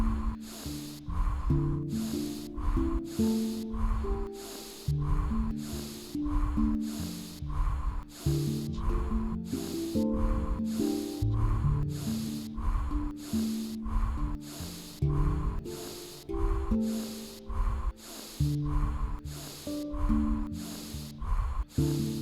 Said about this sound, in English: we're going to inhale fully, exhale with pursed lips, just like you're fogging a mirror